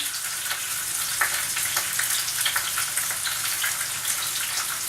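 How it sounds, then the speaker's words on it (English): Crispy wontons fry in a pan of hot oil, giving a steady, bright sizzle with crackling pops throughout, close and continuous without talk. "I have my other pan here with oil, so I'm just going to fry those up"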